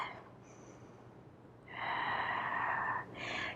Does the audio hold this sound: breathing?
yes